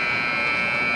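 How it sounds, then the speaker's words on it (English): An ice hockey arena buzzer blares loud and continuous from start to end during a high school boys' game. "No icing as the buzzer sounds."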